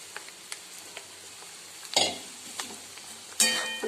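Poha (flattened rice) being stirred and sautéed in a pan gives quiet, sparse spatula taps and scrapes, with a couple of louder scraping swipes and a light sizzle beneath.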